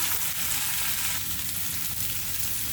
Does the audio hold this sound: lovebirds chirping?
no